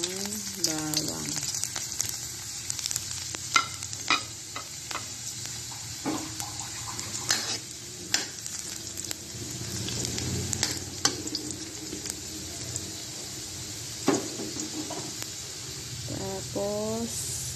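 Garlic sautés in a pan with a steady close hiss of frying, punctuated by scraping stirs and clinks of the utensil, while a person talks intermittently over the sizzle.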